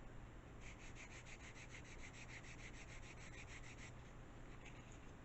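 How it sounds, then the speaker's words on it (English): Quick, rhythmic rasping strokes of a sanding block rubbing on the wood of a retro RC model aircraft kit, about two dozen back-and-forth passes close up, ending with a couple of final scrapes. "I don't know where I threw my sanding block."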